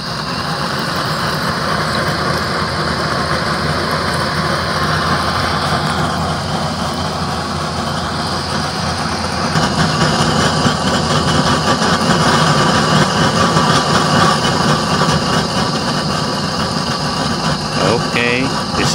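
A blower roars on a heavy duty burner nozzle, a loud, steady rushing drone that swells slightly partway through and continues unbroken, with a voice talking over it.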